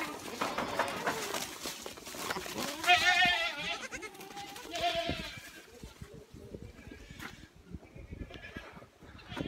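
A herd of goats bleating nearby, several wavering cries overlapping in the first half before tapering off, with a voice calling to them and rustling, footstep-like noise underneath.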